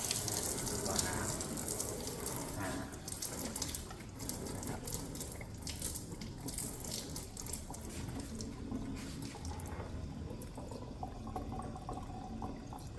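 Water rushes steadily through a UF Cotora under-sink water filter during a flush, a continuous gushing flow with speech-like murmurs faintly in the background.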